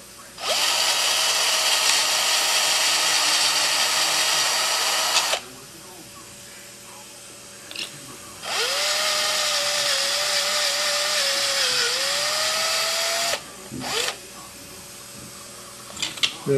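A power tool enlarging holes in an aircraft navigation lens mount, two loud, close high-pitched whirring bursts of several seconds each with the motor pitch sagging under load, separated by a quiet gap and brief knocks.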